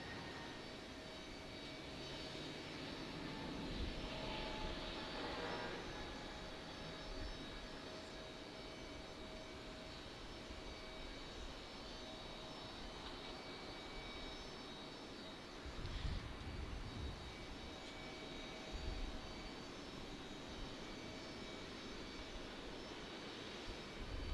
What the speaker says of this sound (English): I think we have Southwest landing on 5 left